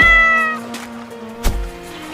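A cat meows in a Sakura School Simulator drama scene: one clear, close meow trailing off, then a shorter second meow a moment later, with no talking.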